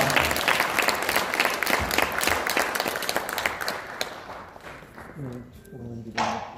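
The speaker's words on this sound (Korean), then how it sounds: "우리 힘써 박수로 한번 격려하도록 하겠습니다" Audience applause at the launch ceremony of a Christian seniors' association, dense clapping filling most of the stretch before fading as a voice begins speaking near the end.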